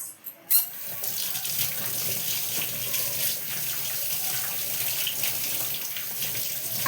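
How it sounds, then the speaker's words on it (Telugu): Tap water pours steadily from a faucet into a sink, a continuous close splashing rush that starts after a brief quiet moment and keeps an even level throughout. "చూసారా అందులో నుంచి వాటర్ ఎలా వస్తుందో"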